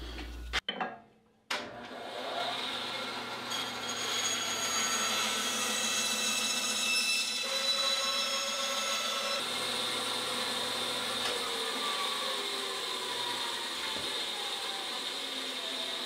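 A bandsaw cuts apart small pieces for a homemade VHS tape string maker, giving a steady, close mechanical whine with a ratcheting texture that runs for most of the stretch after a brief knock at the start.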